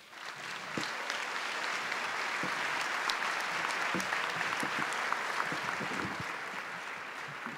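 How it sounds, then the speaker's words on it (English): A church congregation at St. Jerome parish's 100th anniversary Mass breaks into sustained applause for two priests, a dense, steady wash of many hands clapping that holds loud throughout without any talk. "how about one big round of applause for Father Joe and Father Ivan"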